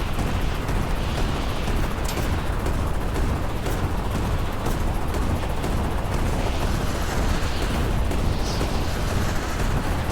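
Rockets and ground fire in a video game island capture battle, a dense, continuous rumble of explosions and booms with scattered sharper bursts, loud and unbroken throughout, no voices.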